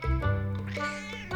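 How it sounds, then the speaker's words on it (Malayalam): A single close, clear cat meow, drawn out and rising then falling over about a second. "പൂച്ചയെ കണ്ടോ?"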